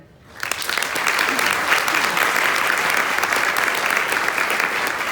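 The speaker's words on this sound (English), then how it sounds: "A round of applause, please, for our volunteers this year." Campaign kickoff audience bursts into applause for volunteers, swelling quickly and holding a dense, loud clapping roar for several seconds with no speech over it.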